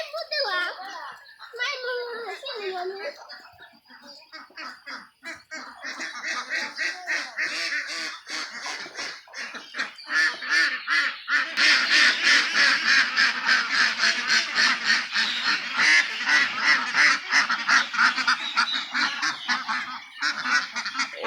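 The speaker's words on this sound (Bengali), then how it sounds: "এগুলা সব ওই যে ক্যাম্বেল হাঁস আপনারা দেখছিলেন যে ছোট আছিল" Flock of about 200 grown Campbell ducks on a farm, quacking and honking in a dense, continuous chorus that builds louder through the middle and stays near and busy, with a voice talking briefly at the start.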